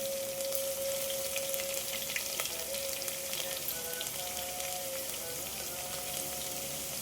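Curry leaves sizzling in hot oil in a home kitchen while cooking varan, a Marathi dal, with garlic already added; a steady, close, broadband crackle and hiss runs throughout with a faint whistle-like tone above it.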